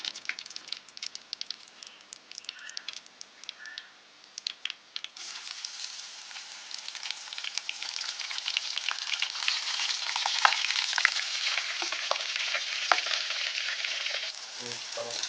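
Drumstick (moringa) pieces deep-frying in hot oil in a Tamil home kitchen give a steady sizzle and crackle that starts softer, then swells into a dense, loud bubbling hiss with scattered pops.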